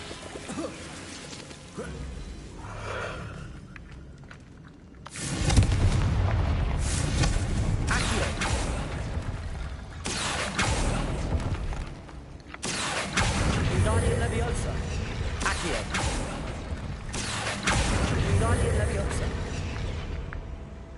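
A rickety bone bridge assembling in a Harry Potter style spell-casting video game, loud grinding, creaking mechanical rumbles in long bursts with short pauses between them.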